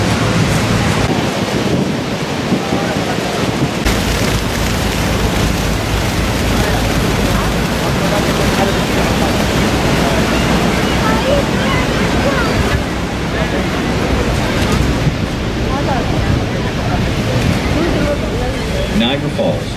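Heavy roar of the Horseshoe waterfall at Niagara Falls, heard from a boat beneath it, with constant rushing water and wind buffeting the microphone throughout.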